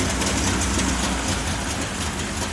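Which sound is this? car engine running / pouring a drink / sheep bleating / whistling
car engine running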